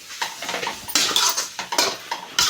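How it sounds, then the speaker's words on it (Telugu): Egg noodles are lifted and tossed in a pan, giving repeated metallic clinks and scrapes of utensil against pan in an irregular rhythm, close and clear, with no voices. "నూడిల్స్ ఎత్తెత్తి కలపాలి"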